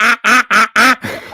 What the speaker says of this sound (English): was soon interrupted by the sound of several cackling geese